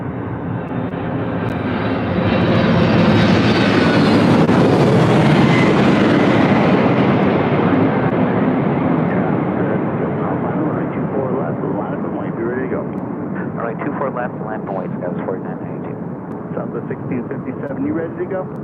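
A Boeing 767-300ER airliner arriving from Atlanta lands at LAX with a loud, broad jet roar that swells over a few seconds, then slowly fades while a voice talks underneath.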